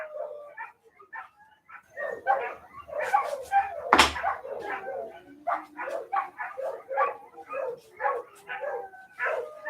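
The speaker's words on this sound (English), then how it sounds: "can y'all hear the dogs?" Several dogs bark, yip and whimper in a steady series of sharp, fairly close calls during a paranormal investigation in central Alabama, with one loud thump partway through.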